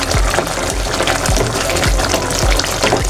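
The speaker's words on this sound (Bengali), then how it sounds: "আমি এখন জল দিয়ে দেবো।" Water gushes steadily into a hot pan of frying new potatoes, a loud, continuous pouring and bubbling wash close by with no talking.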